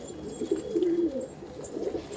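Pet pigeons coo softly nearby while drinking water, a brief low burbling call that rises and fades, repeated faintly at the end.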